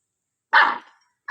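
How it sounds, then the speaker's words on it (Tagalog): A dog gives a single sharp bark, loud and close, in an otherwise silent room, with the start of another bark at the very end. "Ano sabi ng aso?"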